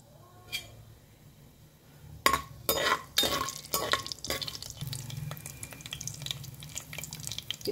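Mustard seeds and cumin fry in three spoons of hot oil for a drumstick and amaranth curry, a faint crackle with a few sharp clinks of a spoon against the pan, then a steady low sizzle.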